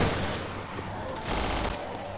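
A special beast cannon fires in Resident Evil Revelations 2 Raid Mode as a dense, continuous blast of rapid gunfire lasting about two seconds, loud and alone with no voices.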